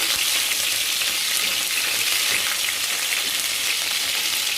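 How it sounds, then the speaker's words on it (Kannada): Chillies and curry leaves sizzle steadily in hot frying oil, a loud, dense crackling hiss that stays even throughout with no voices. "ನಾವು ಮೊದಲಿಗೆ ಮೆಣಸಿನಕಾಯನ್ನು ಹಾಕೋಣ, ನಂತರ ಕರಿಬೇವು,"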